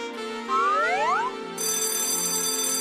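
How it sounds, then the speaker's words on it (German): A bright, sustained bell tone rings out in a German-dubbed cartoon scene featuring Jax and Pomni, entering loud after earlier sliding cartoon boing-like tones and holding steady to the end. "Die Glocke!"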